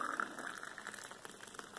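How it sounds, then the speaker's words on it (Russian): Boiling water is poured into a mug, a soft, steady bubbling trickle with light splashes, faint and close. "Кипяток наливаю вот в кружку."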